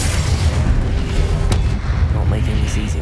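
Fiery Incendio spell blasts in Hogwarts Legacy, a booming burst of flame with a sharp crack near the middle, amid dense game combat noise and a voice in the background.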